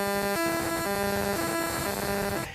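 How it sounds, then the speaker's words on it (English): Laser-induced plasma from a Department of Defense sonic system made of paired lasers, giving warbling, vintage modem-like electronic tones: steady pitched beeps that switch up and down in a repeating pattern over harsh static, loud and continuous. "as of now, it mainly produces vintage modem-esque sounds"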